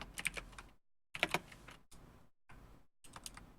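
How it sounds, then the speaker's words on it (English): Bursts of rapid typing on a computer keyboard during a Rust programming session, close and crisp, with clustered clicks broken by short silent gaps. "You see me typing, right?"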